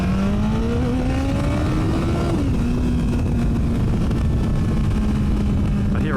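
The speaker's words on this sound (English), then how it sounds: "I'm hearing the wind noise in my helmet. It's loud." Wind roars loudly inside a motorcycle helmet at speed, a constant close rush mixed with the drone of the bike's engine as the pitch climbs and settles.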